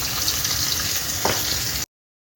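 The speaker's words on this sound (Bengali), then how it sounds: "আর এখানে হচ্ছে মাছ ভাজা" Pomfret fish frying in a pan, a steady close sizzle lasting under two seconds, with one brief bubbling spurt before it cuts to silence; no speech.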